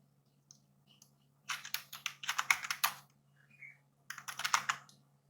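Typing on a computer keyboard comes in quiet bursts of rapid clicking keystrokes, two main clusters separated by a short pause, close and alone in a quiet room.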